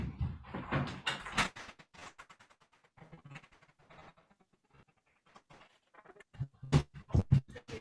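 A front door opened at home during an online committee meeting, giving a few irregular clunks and scrapes close by, with a louder burst of knocks and rattles near the end.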